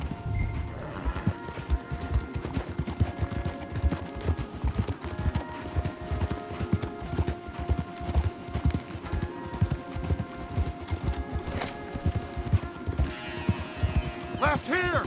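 Horses galloping hard in Red Dead Redemption 2, a dense, rapid clatter of hoofbeats running continuously with rumbling movement beneath, joined by voices talking over the ride.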